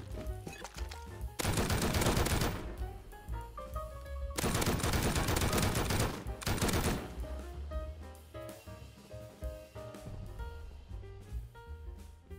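Rapid gunfire in the game Rust, two or three loud bursts of automatic fire a few seconds apart, close by, with quieter clatter and game sounds between them.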